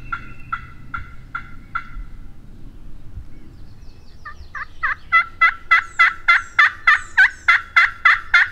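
A wild turkey gobbles outdoors on public land in Tennessee, first as a few distant calls, then as a louder, nearer run of rapid repeated gobbles.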